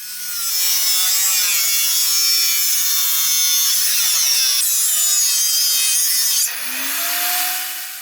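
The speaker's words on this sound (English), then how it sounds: "Using a circular saw, he cuts the planks to size." A circular saw cuts wooden planks for a beehive with a loud, continuous whining buzz that holds steady for several seconds, then dips and spins down as the blade finishes the cut, close and with no talking.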